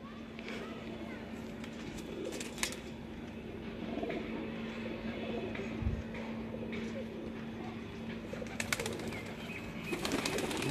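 Teddy pigeons, a breed kept on a rooftop loft, coo softly and low amid steady background noise, with people talking nearby and occasional wing or movement sounds.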